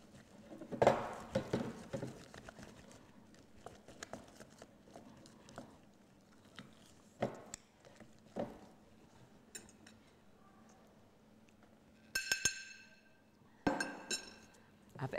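Wooden spoon working stiff cake icing in a bowl, giving scattered soft scrapes and occasional clinks against the bowl, close and fairly quiet, with sharper clinks near the end.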